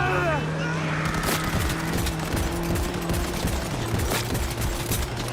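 Rapid bursts of gunfire from the video game Cyberpunk 2077 rattle on steadily for several seconds over a droning engine-like hum and dense game noise, loud and close.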